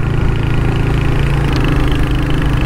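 A Royal Enfield Hunter 350 motorcycle engine runs steadily and close, a loud even thrum with a low throbbing pulse and no talk over it.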